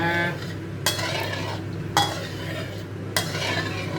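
Shrimp paste stirred in a pan while oil heats, a low steady hum with three distinct scraping clinks of a utensil against the metal, close and without talk.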